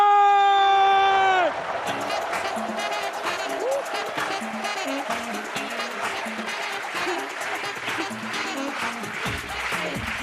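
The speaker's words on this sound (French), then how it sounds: "Accueillons, s'il vous plaît, avec une marmite d'applaudissements, la belle Sylvanine J." A comedy show audience gives loud applause and whoops as a comedian is welcomed on stage, dense clapping that starts after a brief musical sting and runs on steadily.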